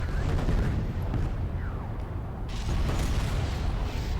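Explosive charges detonating in Homeworld: Deserts of Kharak, a dense, loud rumbling roar of blasts that fills the whole stretch, with a burst at the start and another swell about two and a half seconds in.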